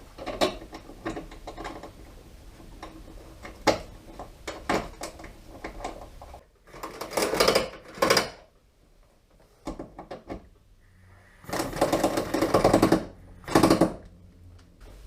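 Ratcheting clicks from tightening two 10 mm bolts on a 2017 Toyota Corolla wiper motor, rapid close mechanical bursts in several separate runs with short pauses, no talking.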